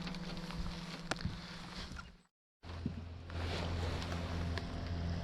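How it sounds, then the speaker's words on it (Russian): A small outboard motor on a fishing boat hums low over wind noise, cuts out briefly, then runs again with a deeper steady drone. "Заводим мотор, едем дальше."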